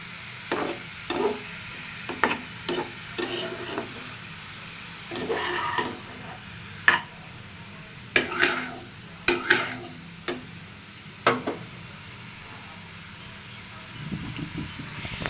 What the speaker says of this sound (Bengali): লবণ দিয়ে ভালো মতো লাউটা মিশাই নেব লবণ দিয়ে